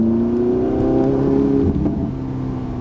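A Ferrari 458 Italia engine pulls strongly under acceleration on a track, a loud, close, steady tonal roar that climbs slightly in pitch before easing, with no voices.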